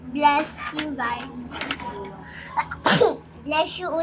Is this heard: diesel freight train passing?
no